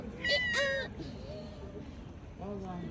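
A cat at the Al Aqsa complex meows, with two clear close meows, a fainter one, then another near the end, over low background noise.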